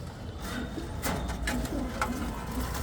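Girubaz pigeons coo softly on a rooftop, their low murmuring calls faint against a steady wash of outdoor background noise, with a few brief scattered higher sounds.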